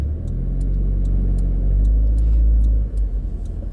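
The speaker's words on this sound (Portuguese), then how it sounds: "Esperar o carro passar" A car passes close by on a windy street in Porto Alegre, its engine a loud low rumble that swells and then drops away as it goes past, with faint ticking clicks above it.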